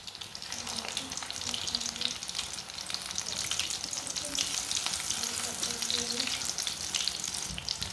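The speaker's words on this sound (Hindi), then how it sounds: "ऐसे इसे उल्टते पुल्टते ब्राउन कर लेना दोनों साइडों से।" Vegetable kebabs frying in a shallow pan give off a steady, dense sizzle that runs unbroken throughout, fairly close and even in level, with no voices over it.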